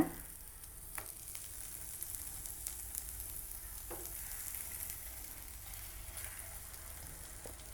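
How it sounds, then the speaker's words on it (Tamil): Spiced brinjal (eggplant) pieces fry in oil in a pan over medium heat, a steady broadband sizzle with a few soft clicks as pieces are placed, no talking. "அடுத்ததாக நம்ம மசாலா சேர்த்து மிக்ஸ் பண்ணி வச்சுருக்க கத்திரிக்காய் எடுத்து ஃப்ரை பண்ணிடலாம்."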